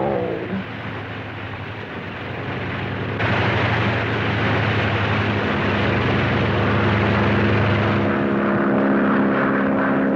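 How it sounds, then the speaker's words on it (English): A propeller airplane in a 1941 action comedy drama drones loud and steady, its engine roar swelling partway through and holding as a continuous close rumble with no talking. "Now all I gotta do is get on that plane."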